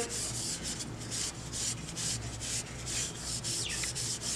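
Steady abrasive scrubbing of a brass vessel with ash, rhythmic rubbing strokes repeating close up, gritty and continuous with no voices.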